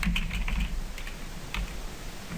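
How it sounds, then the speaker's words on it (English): Keys clatter on a computer keyboard as a quote for plumbing or electrical repair work is entered, a quick run of close clicks in uneven bursts with short pauses, no voices. "I'll type this in."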